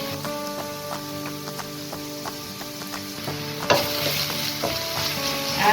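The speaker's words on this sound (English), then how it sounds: "Stir fry it." Pork stir-fried in cooking oil in a wok, a steady close sizzle with scraping stirs throughout, growing louder and brighter partway through as fresh oil hits the pan; no one talks.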